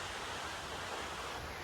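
The waterfall at Amarkantak gives off a steady broadband rush of falling water, even and continuous, heard from a moderate distance at a fairly soft level with no talking.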